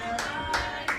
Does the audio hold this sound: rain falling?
no